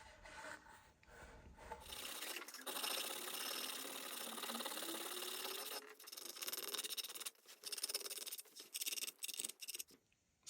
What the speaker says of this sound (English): I'm just using a scraper to knock it down a bit quicker than sanding would